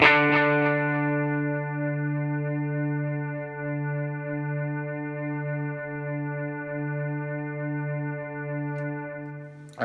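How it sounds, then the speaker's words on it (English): A delay pedal on a guitar pedalboard, its repeats pushed into self-oscillation by holding the preset button: a sustained, pulsing harmonic drone with wobbling swells, steady and loud for the whole stretch, alone with no talk. "You can also increase the repeats until they oscillate by just holding down whatever preset button you're on"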